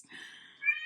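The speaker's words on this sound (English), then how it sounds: "That's my cat." A house cat gives a short, soft, high meow, drawn out and rising slightly at the end, close by in a quiet room.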